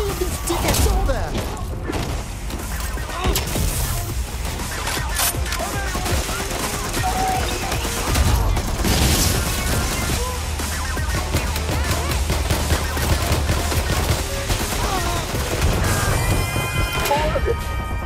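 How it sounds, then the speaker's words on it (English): Dense gunfire in Watch Dogs: Legion rattles continuously in sustained volleys with crashes and thuds, loud and close, while game characters speak over the fighting. "I'm taking fire!"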